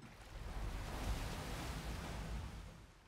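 A broad rushing wash of surf swells and sustains for a few seconds, like a wave surging past, then eases off slightly at the end, in the video game Kingdom Two Crowns: Norse Lands.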